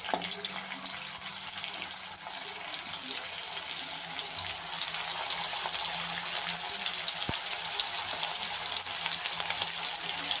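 Onion frying in a pan for a homestyle Maharashtrian kheema, a steady broadband sizzle with a watery hiss that holds evenly and fairly loud for the whole stretch, with no voices over it.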